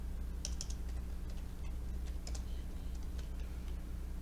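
Typing text on a computer keyboard, with scattered light key clicks and small clusters of taps over a steady low electrical hum, fairly faint and close.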